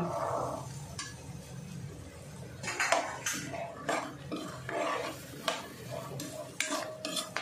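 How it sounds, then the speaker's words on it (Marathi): Chickpeas are turned over in a masala in a pan at home, giving repeated scraping and clinking of a spoon against metal over a soft, low sizzle, close and fairly quiet. "आणि चणे मस्त या मसाल्यामध्ये कोट होईपर्यंत आलटून पालटून घ्यायचे"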